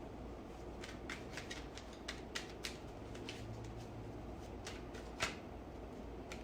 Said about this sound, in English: shuffle some more, okay?